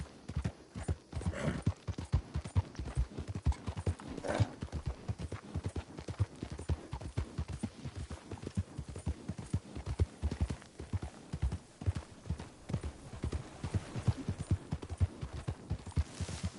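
Horse hooves clip-clop in a steady, continuous rhythm throughout in Red Dead Redemption Online, close and moderately loud, with no one speaking.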